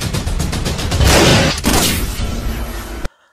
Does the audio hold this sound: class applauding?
no